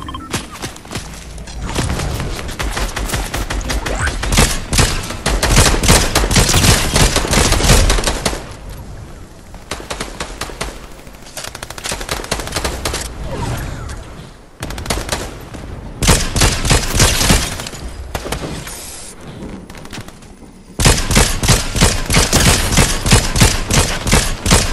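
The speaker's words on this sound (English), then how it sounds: "Someone's shooting at me." Dense bursts of automatic gunfire in Fortnite, loud rapid volleys broken by short pauses, with overlapping shots and thuds throughout.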